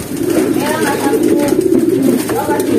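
Soft repeated cooing from a nearby pigeon, low throaty calls rising and falling over a steady background.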